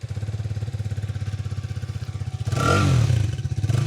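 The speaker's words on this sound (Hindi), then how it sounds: "एक बार इसका इंजन साउंड हम लोग सुन लेते हैं कैसा रहेगा।" A Hero Xtreme 250R motorcycle engine idles nearby with a steady, pulsing thump, then briefly revs up louder before settling back.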